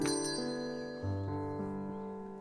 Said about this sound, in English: There goes the ping of the bell.